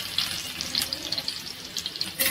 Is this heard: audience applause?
no